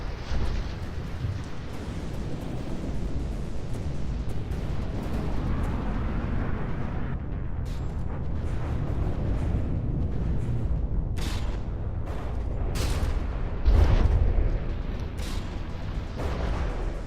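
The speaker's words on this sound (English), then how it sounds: "Those cannons from the Ironbreaker are absolutely devastating at close range when they have no chance to miss" Cannon fire from the Ironbreaker in the From the Depths naval battle game: a continuous roaring barrage of blasts and explosions, with crisper shots late in the stretch and one heavier boom near the end.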